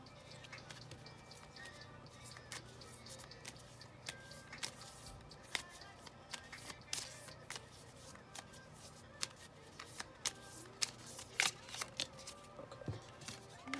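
A small crystal ball pocket oracle card deck is shuffled close by, with soft riffling and scattered crisp taps and flicks of cards over a quiet background.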